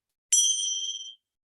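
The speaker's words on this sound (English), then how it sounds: "I'll ring the bell" A single bell is struck once to open a yoga practice. It rings out clearly and alone, then fades over about a second.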